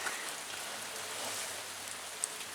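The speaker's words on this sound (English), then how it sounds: "Hail." Hail patters steadily outdoors on a chilly day, forming a dense, even hiss of small impacts at moderate distance with no one speaking.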